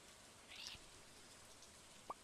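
Light rain falling in Stardew Valley, a faint, soft and steady patter with a few scattered droplet sounds and no talking.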